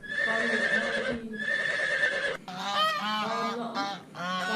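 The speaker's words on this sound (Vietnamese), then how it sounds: "Con ngỗng, con ngỗng," A goose honking repeatedly up close, loud nasal calls in quick bursts, alone without talk.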